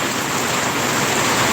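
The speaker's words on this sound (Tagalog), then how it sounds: "Sobrang lakas ng ulan" Heavy typhoon rain heard from a house terrace, a dense, loud, unbroken wash of noise with no distinct drops or voices over its short length.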